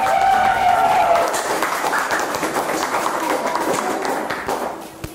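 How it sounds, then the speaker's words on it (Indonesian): Studio audience applause on an Indonesian speed-modelling competition show, a dense wash of clapping that rises after a brief tone at the start and carries on steadily before fading near the end. "tepuk tangan semua"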